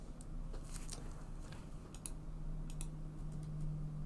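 Soft, irregular clicks of typing on a computer keyboard in a quiet room, light keystrokes alone with no talk, under a faint steady hum.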